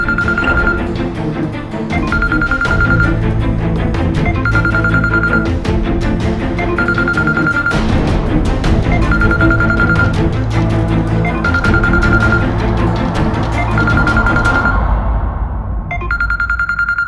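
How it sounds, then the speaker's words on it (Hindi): A mobile phone ringtone plays a repeating beeping tone at a steady rhythm, layered over loud, busy music throughout; no speech. "ये तो मेरे फोन की रिंगटोन है।"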